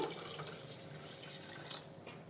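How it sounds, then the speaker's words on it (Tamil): Water is poured into a clay pot while cooking a Kerala-style fish curry with coconut paste, a soft continuous splashing and trickling that runs steadily for a couple of seconds at low level. "இது கூட வந்து ஒரு ஒன்றரை கப் தண்ணி சேர்க்குறேன்"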